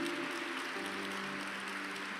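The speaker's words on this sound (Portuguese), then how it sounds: "Vamos dar uma salva de palmas para Jesus?" A group of people applauds at a church closing gathering, a dense, steady patter of clapping held at a moderate distance for the whole stretch, with no voices over it.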